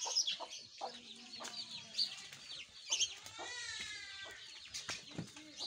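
Desi hens and a rooster in an Adivasi village cluck and cackle in irregular bursts, fairly close but quiet, with scattered short calls overlapping.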